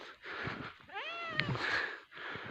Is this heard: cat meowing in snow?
yes